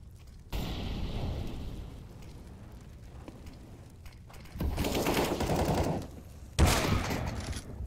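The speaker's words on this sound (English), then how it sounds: "PTC with his AWP doing the right job for 5POWER" Gunfire from an AWP sniper rifle and other weapons in a Counter-Strike match on Mirage: loud, sustained bursts that surge and fade in several waves, with heavy booming between them.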